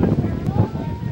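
Strong gusting wind from a microburst batters the microphone at an outdoor girls' high school soccer game, a loud continuous roar and rumble with people talking faintly underneath.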